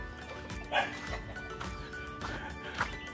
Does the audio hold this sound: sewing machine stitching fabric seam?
no